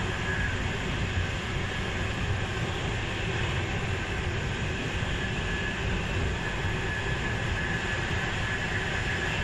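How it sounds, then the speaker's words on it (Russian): A high-speed passenger train rolls past a station platform, a steady, loud rumble and rush of wheels and air that holds constant throughout with no clear breaks. "Просто ехать в поезде скоростном."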